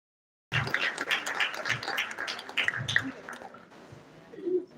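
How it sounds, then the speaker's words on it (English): Applause at an evening award ceremony for veterinary alumni, scattered clapping that starts abruptly after silence and thins out, with voices and talk mixed in. "we can do better with the applause."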